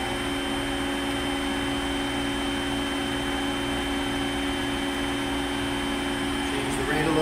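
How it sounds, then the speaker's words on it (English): The hydraulic pump of a fully rebuilt 60K (300 kN) Tinius Olsen Super L testing machine runs with a constant, droning hum and steady tonal whine, close and unchanging. "Pump started again."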